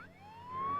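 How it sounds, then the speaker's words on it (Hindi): An ambulance siren wails briefly, a rising electronic tone that swells in loudness over under a second. "एम्बुलेंस में सायरन होती है, सायरन के बजने से रास्ता मिलता है।"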